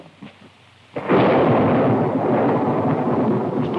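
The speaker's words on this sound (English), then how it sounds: "Storm coming up." Thunder from a thunderstorm, used as a radio drama sound effect, crashes in suddenly after a second of quiet and then rolls on as a loud, sustained rumble with a rain-like hiss.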